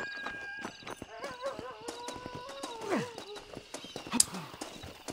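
A horse in the Red Dead Redemption western game, clip-clopping hooves in a steady walking rhythm, then a loud whinny rising and falling near the middle, with a sharp higher squeal toward the end; close and clear, no talk.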